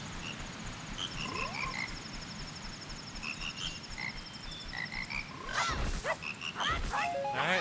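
Frogs in Zelda: Majora's Mask croak in a sequence of bright, tuned, chirpy notes forming a short melody, with louder, sweeping calls near the end.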